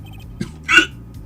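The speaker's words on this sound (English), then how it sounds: "I can get the hiccup to come up" One sharp human hiccup pops out abruptly near the microphone, followed by a brief breathy burst, against a quiet background.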